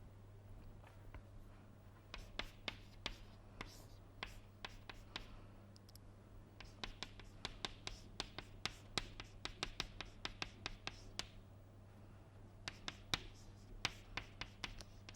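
Pen writing out physics working on paper, a series of quick scratchy strokes in bursts with short pauses between, close and fairly quiet, without talk.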